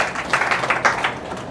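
A Sunday worship congregation claps briefly and fairly loudly at a pastor's call, with a dense patter of many hands and no talk over it.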